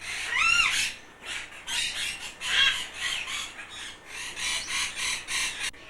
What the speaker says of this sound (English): This is a wrinkled hornbill.